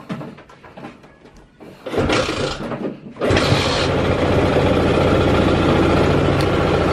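A motorcycle engine with a three-phase charging conversion cranks, fires up and settles into a steady, loud, close idle.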